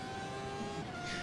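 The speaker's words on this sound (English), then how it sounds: "Listen to that engine sound." A 1990s Ferrari Formula 1 car engine heard on board in the Automobilista racing game at the Österreichring, a steady high-pitched whine holding a constant tone with slight rise near the end, continuous and moderately loud.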